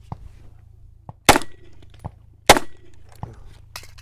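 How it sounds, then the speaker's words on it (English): A handgun fires two sharp, loud shots on a range during a draw and shoot-from-cover drill, about a second apart, with lighter clicks and handling noises before, between and after them. "and there we go, shooting from cover."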